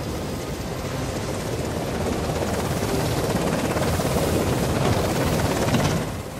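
A helicopter in the video game Days Gone, with a loud, steady rotor roar and whoosh that holds at close range for several seconds and swells slightly before fading near the end.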